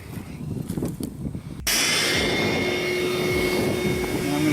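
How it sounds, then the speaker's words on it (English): A shop vac switches on abruptly partway through and keeps running with a loud, steady roar and a high whine, replacing the quieter, uneven background heard beforehand. "turn on the shop vac"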